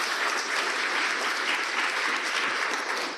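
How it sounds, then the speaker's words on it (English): Sustained audience applause at an International Women's Day event, a dense, steady wash of many hands clapping at even loudness from start to finish. "One more round of applause for these guys."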